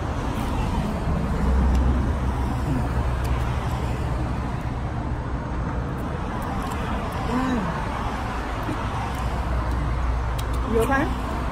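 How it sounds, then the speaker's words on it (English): Cars and trucks roar past a busy intersection in a constant wash of road noise, steady and fairly loud, with occasional voices mixed in. "Cars are flying by, you know."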